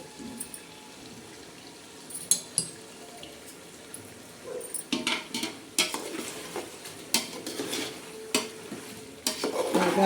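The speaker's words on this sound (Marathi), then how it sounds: "आता परत एकदा आपण हलवून घेणार आहोत" Chicken biryani masala with squeezed lemon is stirred in a pot, giving soft scraping and a faint sizzle, with sharper clinks and knocks of the spoon against metal that grow busier partway through.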